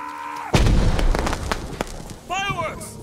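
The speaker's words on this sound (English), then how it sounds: "Fireworks!" Fireworks exploding in the video game Ghost of Tsushima: a sudden loud boom followed by a crackling run of bursts and pops, with a shouted voice rising near the end.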